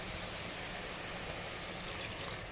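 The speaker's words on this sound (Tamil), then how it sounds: "இதில் வந்து தண்ணி சேர்த்துப்போம்" Water goes into a pan of spinach as a steady, faint rushing pour that holds evenly throughout, with no speech.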